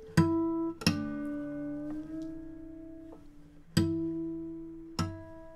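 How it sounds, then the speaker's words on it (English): Several bright plucked guitar tones ring out and sustain, with chiming harmonic overtones, separated by pauses as the pitch is adjusted; no voices. "those little sounds you hear when I'm retuning, those are called harmonics"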